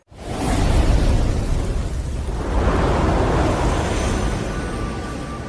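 Firecrackers bursting during Vishu celebrations in Kerala form a loud, dense, continuous crackling roar that starts abruptly and holds steady for several seconds, with no talking.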